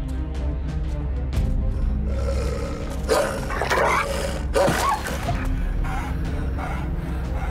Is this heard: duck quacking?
no